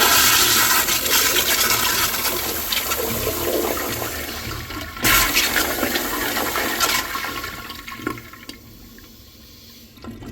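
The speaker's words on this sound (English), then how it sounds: "I'm going to go ahead and extend the flush since this one is a little bit short" A Kohler Kingston Waterguard wall-mounted toilet flushes with a powerful, loud rushing surge, extended by hand. A sharp clunk follows midway, and the flow then tapers into a softer trickling refill.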